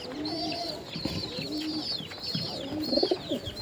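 A pigeon cooing close by, a run of soft throaty coos and warbling calls in quick succession, with faint background bird chirps and no speech.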